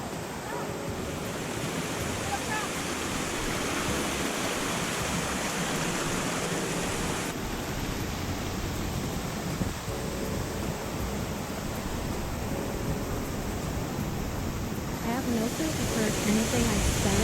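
Rushing water at Tumpak Sewu Waterfall in Indonesia, a loud, continuous broadband roar filling the whole stretch with little variation, close and unbroken.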